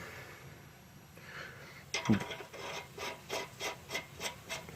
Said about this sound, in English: Just slide the link in.